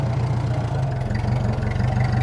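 The engine of a 1950 Ford 8N tractor runs nearby with a steady, low, rhythmic chugging idle, loud and even throughout, with no one speaking.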